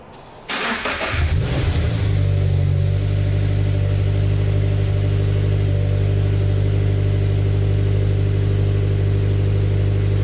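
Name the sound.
Subaru FRS engine starting and running after spark plug change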